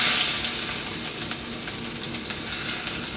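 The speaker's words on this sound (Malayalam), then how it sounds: "ഇഞ്ചി കൊത്തിയെടുത്തതാണ്" Chopped ginger sizzles in hot oil in a pan for a vegetable kurma, a loud, continuous frying hiss at first that eases slightly, with small stirring scrapes and no talk.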